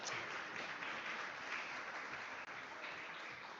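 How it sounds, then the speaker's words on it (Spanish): Applause from a workshop audience on urban forestation, a steady dense wash of clapping that holds evenly at moderate loudness throughout, without voices. "Yo iba a pedir un aplauso para Vianey, bueno, entonces lo damos aunque no esté"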